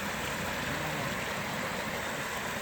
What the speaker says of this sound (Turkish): Ben de size coşan dereleri çekmek istedim.